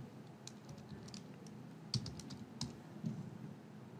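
Fingers tapping a computer keyboard while entering a full body checkup lab report, with scattered individual keystrokes and a few louder clacks spaced unevenly, close and clear with no talking.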